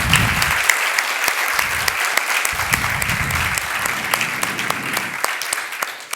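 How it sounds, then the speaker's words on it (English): A conference audience at a plenary session applauds the speakers, a dense, sustained clapping from many hands that fills the room and fades slightly at the end. "Can I have a big round of applause for the speakers?"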